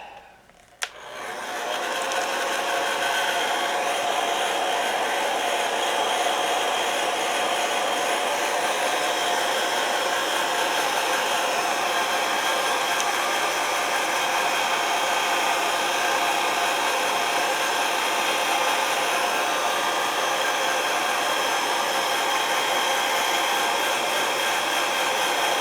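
Hair dryer blowing steadily to dry paint on a small model motor, a constant close whooshing roar that starts after a brief click and runs unbroken.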